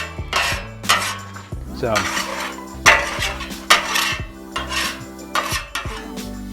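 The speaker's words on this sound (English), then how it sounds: "I'm gonna pull all this bacon fat over" A metal spatula scrapes bacon fat across a Blackstone griddle in repeated rhythmic strokes, with ringing metallic scrapes and clanks close up, and one brief spoken word at the start.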